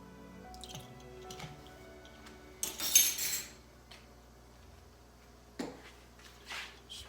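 Chocolate with a pinch of salt and vanilla extract is stirred in a pot over a low flame, quiet scattered scrapes and clinks of a utensil with a few louder knocks against the pot.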